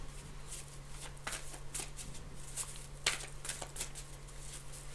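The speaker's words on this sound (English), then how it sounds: "I'm shuffling." A deck of cards is shuffled by hand, giving repeated crisp riffling bursts in an irregular rhythm over a low steady hum, close and fairly quiet, with no talking.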